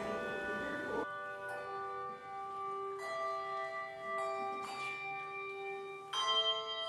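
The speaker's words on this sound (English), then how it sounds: "we use the bells that are the Anglican Church's bells" Anglican church bells rung by a team of bell ringers, several clear resonant strikes sounding one after another at a measured pace, each note ringing on and overlapping the next, fairly faint and distant.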